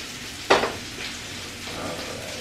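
Thin-sliced onions frying in butter in a pan with a soft, continuous sizzle, a single sharp clatter near the start, then quieter crackling.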